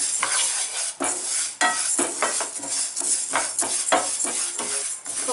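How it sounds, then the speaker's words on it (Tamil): Moong dal dry roasting in a pan without oil, stirred with a utensil that scrapes and knocks against the metal in repeated close strokes, with a faint rustle of the lentils between them. "இப்போ ஃபஸ்ட்டு பாசிப்பருப்பை வதக்கிக்கிறேன்."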